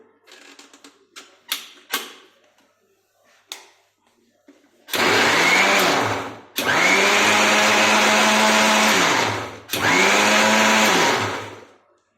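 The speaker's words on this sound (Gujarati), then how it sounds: "મિક્સરમાં આપણે એને ક્રશ કરી દઈશું।" A kitchen mixer grinder crushes washed coriander leaves with salt in three loud, whining bursts separated by short pauses, after a few quieter knocks and clatters at the start.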